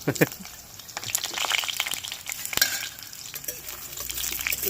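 Duck eggs fry in hot oil with a crackling sizzle and sharp pops, close by, while a spoon or spatula scrapes and stirs the pan.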